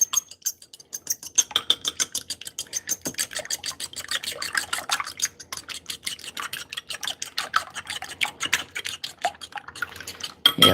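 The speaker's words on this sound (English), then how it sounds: "I'm going to whisk that up." A fork whisks rapidly in a bowl, giving a steady run of quick, sharp metallic clicks, close and fairly loud, continuing with only brief pauses.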